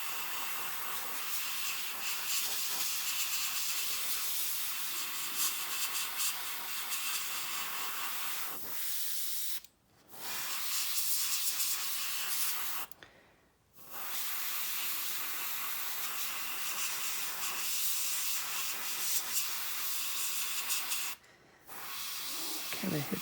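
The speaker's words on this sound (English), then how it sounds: "I'm not used to this, and I'm spraying heavy" An airbrush sprays red paint onto a 1/32 scale Zoukei-Mura Horten Ho 229 model kit, giving a steady close hiss that runs for long stretches and cuts out for three brief pauses.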